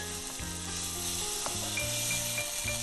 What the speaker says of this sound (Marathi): तो खिमा आधी चांगला परतून घ्यायचा.